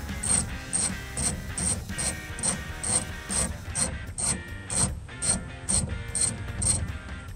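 A hand ratchet spins out a grille bolt on a 2007-2013 Chevrolet Silverado 1500, a close, steady run of rapid metallic clicks in even rhythm that lasts the whole stretch.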